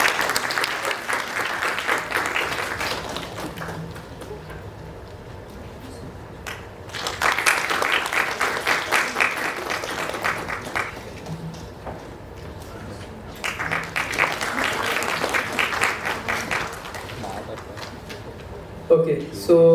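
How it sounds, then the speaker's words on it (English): Audience applause at a panel discussion and Q&A session, rising in three loud sustained waves of clapping separated by quieter stretches, with some talking in the room between them. "Can we have a huge round of applause?"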